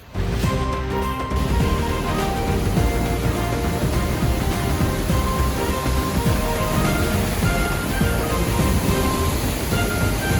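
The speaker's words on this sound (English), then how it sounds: "So I think this is the second waterfall that we couldn't see before." Steady, dense rushing roar of a waterfall in the Brecon Beacons, loud and continuous throughout with no voices.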